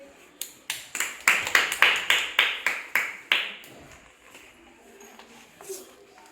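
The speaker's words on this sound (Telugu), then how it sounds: "మీ అందరికన్నా దానేశ్వర్కి క్లాప్స్ కొట్టండి" A classroom of children clap together for a classmate, a burst of roughly a dozen sharp, rhythmic claps that builds, then fades, leaving quiet room tone.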